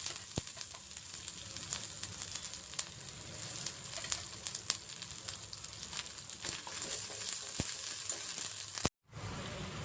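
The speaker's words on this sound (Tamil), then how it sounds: "இப்போ நம்ம வெங்காய பேஸ்ட்டை சிம்மில் வச்சு வதக்கிக்கலாம்." Onion paste frying over low heat in a pan for channa masala, a soft continuous sizzle with scattered crackles and faint stirring clicks, quiet and close.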